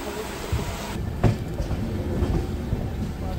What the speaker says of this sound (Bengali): যত সম্ভব 6 নম্বর প্ল্যাটফর্মে কিন্তু ট্রেন দিয়েছে